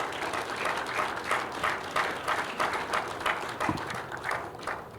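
Audience applause at a political conclave: steady, sustained clapping from a large crowd, moderately loud and continuous throughout with no talking over it.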